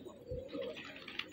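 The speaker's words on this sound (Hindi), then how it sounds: "माशाल्लाह इस जाल में भी कबूतर हैं" Pigeons held in a catching net give a short, close coo, a low soft murmur lasting about a second over faint background noise.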